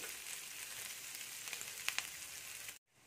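Onions fry in a pan for an egg spring roll, a steady bright sizzle with a few sharper crackles and pops, then a sudden cut to near silence.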